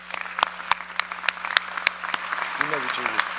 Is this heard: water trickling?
no